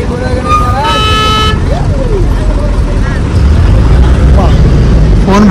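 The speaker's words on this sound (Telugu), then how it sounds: "ట్రాఫిక్ అయిపోయింది." Busy highway traffic passes with cars rumbling by and several horns tooting and honking, some in short bursts and one sustained blast, as people talk over the din.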